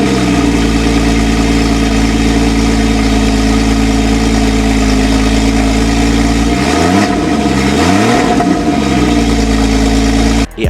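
Cold start of a manual Porsche 981 Boxster S with a 3.6 litre flat six, a loud, steady, deep idle with a strong low growl, then a couple of brief revs that rise and fall near the end.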